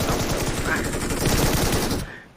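Rapid automatic gunfire from a video game shooter, a dense continuous burst of loud shots lasting about two seconds before cutting off.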